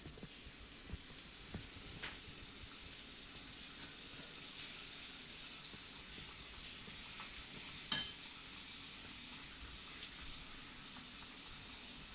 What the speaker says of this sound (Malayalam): നെയ്യ് ചൂടായതിന് ശേഷം കുറച്ച് അണ്ടിപ്പരിപ്പ് ചേർക്കാം ഒന്ന് ഇളക്കി കൊടുക്കാം